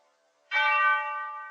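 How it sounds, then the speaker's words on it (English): A church bell in the animated film Fantasia strikes once, sharp and loud, then rings on with a bright, sustained hum that slowly fades. "Is that a church bell?"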